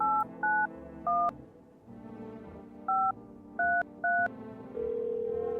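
Telephone dialing in the video game No, I'm Not a Human: six clear touch-tone beeps in uneven bursts over a low background hum, ending in a steady ringing tone.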